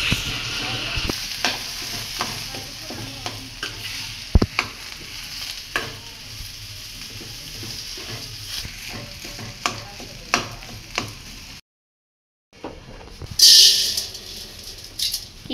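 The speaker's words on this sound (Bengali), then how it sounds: "খিচুড়িতে দেওয়ার জন্য ডাল ভেজে নিচ্ছে" Lentils fry in oil on a village clay stove for khichuri, with a steady loud sizzle and a spatula scraping and stirring throughout. The sound cuts out briefly near the end, and a sharp hiss follows. No one speaks.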